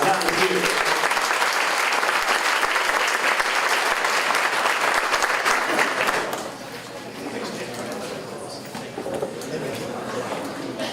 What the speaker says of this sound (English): Let's give them all a hand, guys.